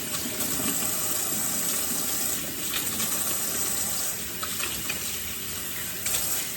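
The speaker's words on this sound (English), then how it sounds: "Wash my hands again." Water runs steadily from a kitchen sink tap as hands are washed, a continuous close gushing splash with small shifts in flow, no talking.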